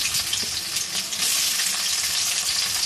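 Chopped onion fries in white oil in a wok, making a loud, steady sizzle with crackling spits heard close up and no talking.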